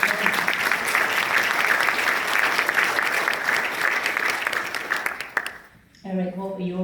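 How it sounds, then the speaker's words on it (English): Sustained audience applause at a panel discussion: dense, steady clapping from a room full of people that lasts about five seconds, then thins out before a voice starts speaking. "I think that deserves a round of applause."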